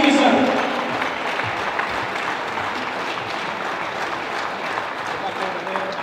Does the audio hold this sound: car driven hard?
no